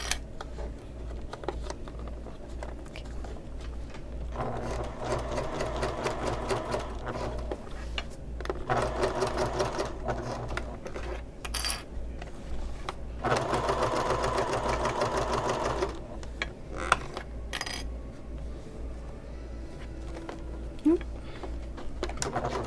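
Sewing machine back stitching a bag seam on a convertible bag, with several bursts of steady motorized stitching broken by short pauses, close and moderately loud.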